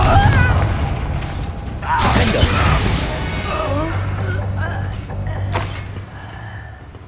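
A Confringo blasting spell cast in the video game Hogwarts Legacy, with a burst of crashing, booming impact and mechanical rattles among game sound effects, followed by a lower rumbling tail.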